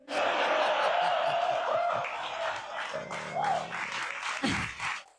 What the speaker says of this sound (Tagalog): Ang dami niyang palakpak na natatanggap.